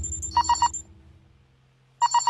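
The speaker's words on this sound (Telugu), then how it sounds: "అది నీ సెల్ ఫోన్ రా ఎదవా" A cell phone ringtone rings in short bursts of three quick electronic beeps, a pause, then another burst, loud and close with no talking.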